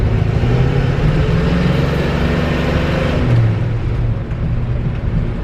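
A 1963 Chevy C30 truck engine revs loud and close, a deep mid-range roar held high for several seconds before easing off toward the end.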